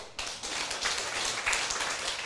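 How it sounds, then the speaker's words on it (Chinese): Dense, steady applause from an audience at the closing address of a Taiwan government senior administrative seminar, a continuous wash of many hands clapping at once. "甲鼓掌一下。"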